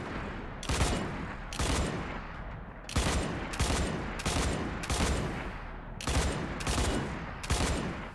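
Automatic gunfire from a video game weapon, fired in long sustained bursts with brief pauses between them, loud and close, with no talking.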